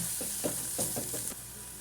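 Chili powder and coriander powder fry in a pan over a low flame, giving a steady soft sizzle with a few light stirring scrapes; no voices.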